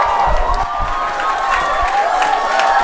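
A studio audience cheers and applauds to welcome a singer onstage, a loud, sustained roar of clapping and shouts that carries on throughout.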